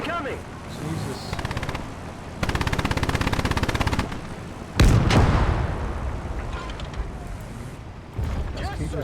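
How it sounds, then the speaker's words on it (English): A war film battle scene with rapid machine-gun bursts, then a heavy artillery blast with a long rumbling decay, followed by another burst of fire, loud and dense, with a voice shouting among the firing. "Artillery! Standard fire incoming!"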